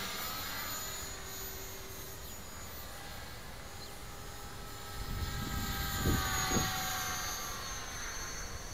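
An LH-450bb RC helicopter flies outdoors into a 10 to 15 mph crosswind. Its faint, distant rotor and motor whine wavers in pitch under wind noise and swells briefly toward the end.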